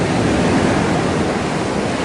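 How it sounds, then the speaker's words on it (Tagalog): A continuous, loud roar of crashing ocean surf heard from back from the shore in Tangalan, Aklan, in rainy weather, fills the clip, a dense rushing wash with no voices. "Grabe lakas ng alon, didinig nyo kahit malayo tayo sa dalampasigan."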